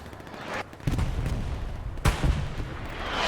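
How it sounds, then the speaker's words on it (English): Artillery fire in the WWII shooter Hell Let Loose during a tournament match: a steady rumble of distant shelling, with heavier booming impacts near the one-second mark and again just after two seconds. "And the random artillery gets him."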